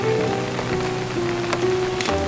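Heavy rain pours down steadily in a steady broadband wash, with a sustained tonal hum running underneath and a few brief sharper hits; no one speaks.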